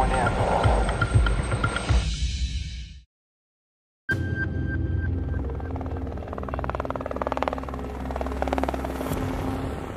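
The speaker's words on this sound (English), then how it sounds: "My partner and I, we're in the helicopter," A helicopter's rotor thrums loudly and steadily, cutting out to silence for about a second before the engine drone resumes.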